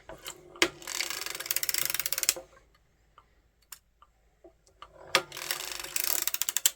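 A circular sock knitting machine is cranked round by hand, giving two loud bursts of fast, ratcheting clicks, with a quiet gap in between that holds only a few faint ticks.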